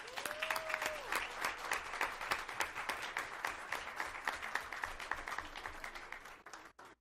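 Audience at a regular public meeting giving a round of applause, many hands clapping in a steady crowd patter that fades out at the end, with a brief tonal sweep near the start.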